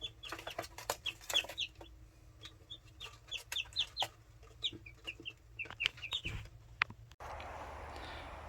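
Hens cluck and a rooster calls in short, irregular bursts at a backyard flock's pen, fairly close and clear, with no talk, before a louder rushing noise takes over near the end.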